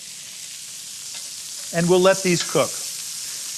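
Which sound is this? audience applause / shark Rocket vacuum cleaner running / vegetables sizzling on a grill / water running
vegetables sizzling on a grill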